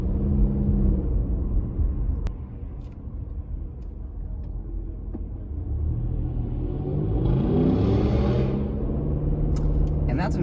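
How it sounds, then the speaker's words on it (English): Outside road noise inside a Toyota RAV4 XLE while driving, a continuous low rumble that swells as another vehicle passes close by, with a brief rising hiss, and people talk over it. "And that's an example of where, again, the installation from outside sounds could be a little bit better in the Rav4."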